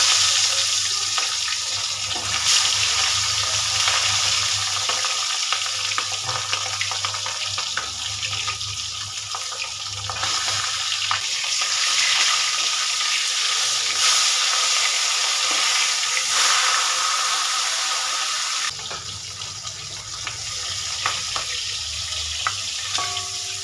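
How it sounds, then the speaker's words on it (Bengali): Fish heads fry in hot oil in a wok for a Bengali curd fish-head dish, a loud, steady, broadband sizzle that holds for over twenty seconds with occasional crackles and faint clatter and no voices. "দেখুন বন্ধুরা, তেল খুব সুন্দর গরম হয়ে গেছে। এবার আমি মাছের মুড়োগুলো দিয়ে দেবো।"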